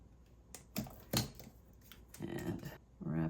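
Copper wire being snipped with cutters during wire wrapping around purple jasper gives a few sharp, quiet clicks and snips with small handling rustles, close up and scattered, under a soft voice.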